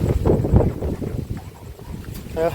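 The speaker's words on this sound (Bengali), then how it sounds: "বাইরে তো বিশাল ঝোড়ো হাওয়া হচ্ছে" Strong stormy wind buffets the microphone in rough, gusty rumbles during a storm with lightning, with a voice talking through it.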